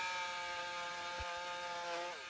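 Jigsaw cutting through olive wood more than 4.5 cm thick, a steady strained buzzing drone with a shifting pitch that holds throughout, moderately quiet.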